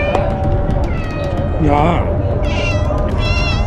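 Cats meow repeatedly in Egypt, several rising cries close by over steady background noise, while someone speaks briefly.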